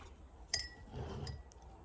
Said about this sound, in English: the first thing you want to do is you want to add your cherries to the bottom.